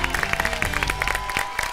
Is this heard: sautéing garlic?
no